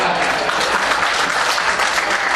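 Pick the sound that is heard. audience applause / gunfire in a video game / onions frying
audience applause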